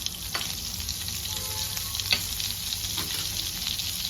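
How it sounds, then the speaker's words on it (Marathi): Butter sizzles in hot oil in a pan for a Marathi palak daliya khichdi, with a steady broadband frying hiss, a few brief spatula scrapes and no talking. "आता तेल गरम झालं, आता त्याच्यातच मी 1 टेबलस्पून बटर टाकते।"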